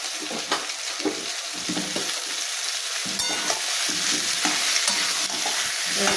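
Parboiled potatoes and onions frying in a pan, a constant sizzle broken by repeated scraping stirs of a spatula, close and even, with no one talking.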